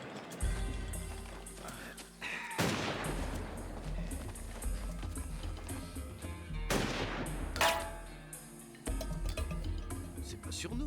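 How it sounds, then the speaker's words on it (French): Gunfire comes as several loud booming shots with long decaying tails in a tense scene, spread across the clip amid heavy background noise, with speech also present. "C'est pas sur nous qu'il tire."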